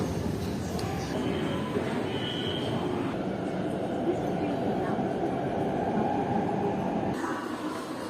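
Metro train rolling steadily with a continuous loud rumble and rail hum from inside the car, with faint murmuring voices beneath.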